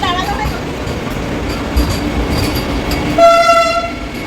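A train rumbles loudly as it pulls into New Jalpaiguri station in Siliguri, ending with a clear tonal horn or chime over the noise.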